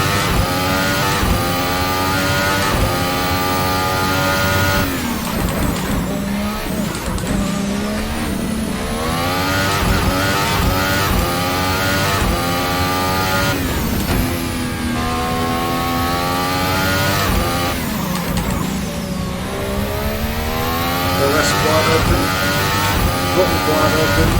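A Formula 1 car in Assetto Corsa screams loud and close through rapid upshifts, each rising engine note cut short and restarting, with a commentator speaking over the steady, continuous roar.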